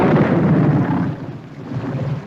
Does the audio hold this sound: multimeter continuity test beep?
no